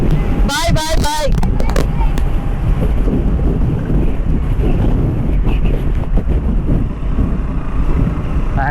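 Strong wind buffets the microphone while riding a KTM RC 390 motorcycle, making a continuous close rumbling roar that never lets up across the whole stretch.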